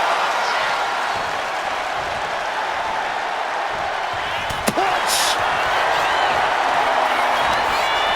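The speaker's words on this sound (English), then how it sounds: "Listen to this crowd driving these competitors to leave everything out in the ring" Arena crowd noise in a WWE wrestling video game, a steady roar of cheering under a commentator's voice, with a sharp slam impact midway and a brief whoop after.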